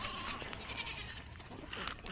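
Young goat kids bleat on a farm, a couple of nasal cries rising over the steady background noise of the pen.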